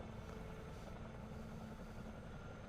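Chinook twin-rotor helicopter in a video game, a steady continuous rotor and engine drone with a low hum, holding an even level throughout with no talk over it.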